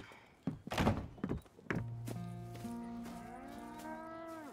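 Cattle on a farm in Red Dead Redemption 2 low in a couple of long, drawn-out moos after a few heavy thunks and footsteps, near and clear with no talking.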